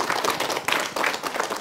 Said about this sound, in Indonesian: Tepuk tangan untuk Ustadz Randi.